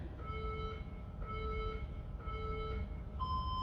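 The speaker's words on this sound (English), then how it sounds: "We'll hear those beeps in a second." Workout interval timer in a HIIT session sounds three evenly spaced electronic beeps followed by a higher final beep, clear and moderately loud over faint background noise.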